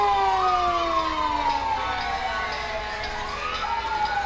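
The Ramsey Fire Department ladder truck sounds its siren in the 2015 Happy Days Parade, with wailing tones that sweep down and climb again, loud and close throughout.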